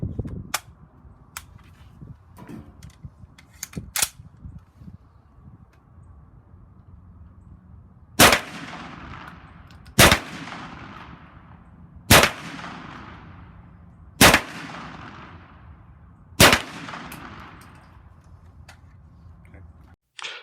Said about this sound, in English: This is the first time I've really ever shot a semi-automatic 410.